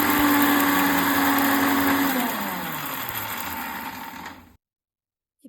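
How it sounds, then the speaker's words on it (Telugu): Mixer grinder whirring loudly as it grinds fried dry spices for chicken pickle into a fine powder, a steady motor roar that dips in pitch after a couple of seconds, then cuts off into silence. "సో ఇప్పుడు దీన్ని మిక్సీలో ఫైన్ పౌడర్ లాగా చేసుకొని"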